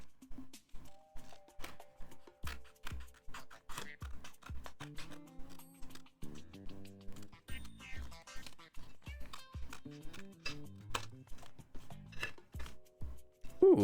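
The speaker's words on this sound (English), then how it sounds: "these scissors are hurting my hands" Handheld scissors snipping through thin tin panels for jewelry boxes, a steady run of sharp, close metallic cuts about twice a second under soft background music.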